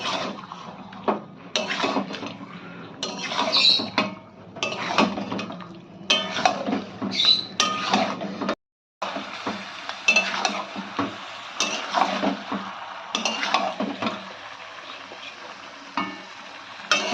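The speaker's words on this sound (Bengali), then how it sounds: "মশলাপাতির সঙ্গে ভালো করে ম্যারিনেশন করা চিকেনটাকে মিশিয়ে নিতে হবে।" Marinated chicken and spices are stirred in a pan for Patiala chicken, with repeated scraping and clattering of a spoon against metal in uneven bursts, close and fairly loud, broken by one brief silent gap.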